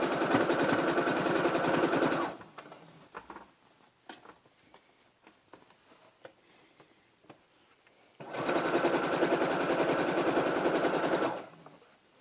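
A sewing machine stitches a baby frock in two rapid, steady runs of several seconds each, loud and close, separated by a quiet stretch of small handling clicks.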